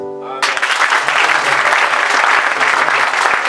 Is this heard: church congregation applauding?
yes